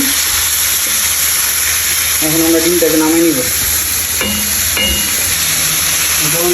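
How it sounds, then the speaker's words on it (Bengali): Broiler chicken pieces frying in a pan, a steady, close, hissing sizzle throughout, with a voice speaking briefly over it. "আর এদিকে আমরা মুরগিটাকে ভেজে নিতেছি।"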